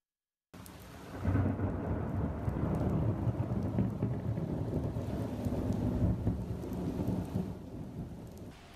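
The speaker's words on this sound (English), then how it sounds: "several of our viewers recorded that thunder and lightning, sharing their video of the storm rolling in" Thunderstorm rolling in over northwest Harris County, Texas: a long, loud rumble of thunder builds after a brief silence and mixes with steady heavy rain on surfaces, with no voices.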